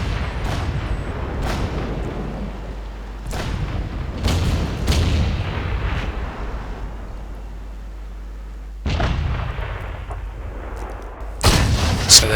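A tank's main gun in a video game fires several heavy booming shots spaced a few seconds apart, each a sharp blast with a rumbling tail over a low engine drone.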